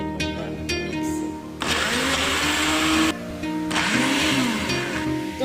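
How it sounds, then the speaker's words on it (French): A kitchen blender blends papaya, orange and lemon for jam, its motor whirring loud and steady with a brief pause and restart partway through, no voices over it. "j'ai mis dans le blender, on va fermer et on va mixer"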